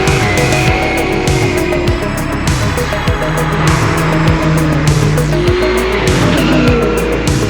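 A 1990 Ford Mustang drives hard on a race track, its loud engine roaring close and continuously while the tires squeal and skid through the turns.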